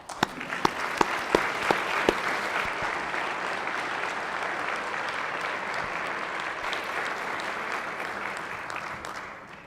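Steady applause fills a Senate chamber as a newly confirmed associate judge is introduced. The clapping stays even and moderately loud, with a few sharper individual claps near the start.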